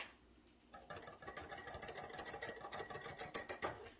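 Salad dressing whisked with salt and pepper in a bowl, giving a quick run of rapid, even scraping strokes that start after a brief pause and carry on steadily at close range.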